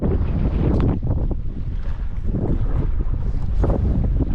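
Strong wind buffets the microphone on a prairie lake in North Dakota while walleye fishing, a loud steady roar with gusting swells throughout and no other clear sounds.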